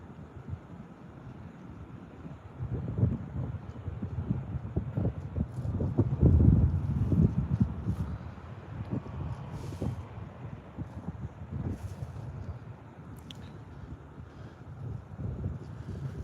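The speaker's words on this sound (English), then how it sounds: "The wind's pounding right in here, eh?" Strong wind gusting across Hamilton harbour, a steady low roar of buffeting against the microphone that swells to its heaviest midway through and then settles into a continuous rumble, with no talk.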